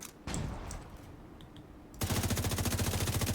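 Rapid automatic gunfire in The Division 2, a fast, steady burst of shots fired nonstop through one magazine after a short stretch of quieter game sounds, loud and close.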